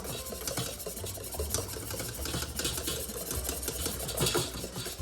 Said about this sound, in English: I'm just gonna slowly whisk in the butter.